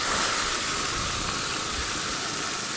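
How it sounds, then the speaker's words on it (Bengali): Small fish frying in hot oil, five to seven laid into the pan one by one: a steady, loud, dense hiss that fills the whole stretch without pause, with no talking. "এরপর ওই তেলেই এক এক করে মাছগুলোকে ছেড়ে দিতে হবে"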